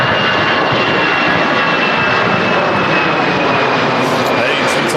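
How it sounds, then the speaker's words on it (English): EasyJet Airbus A319 jet taking off at Manchester Airport, a loud continuous engine roar with high whine, close and steady throughout, with a voice talking over it. "enjoy this EasyJet A319 off back to Inverness"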